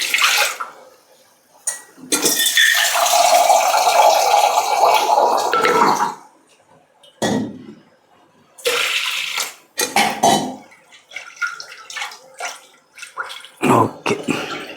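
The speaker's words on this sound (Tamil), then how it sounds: "கொஞ்சம் தண்ணி, இன்னும் கொஞ்சம் தண்ணி கொடுங்க." Water is poured into a pressure cooker coated with masala for Tamil-style mutton kulambu, coming as loud splashing bursts with metallic clatter of the pot, separated by short pauses and brief voices.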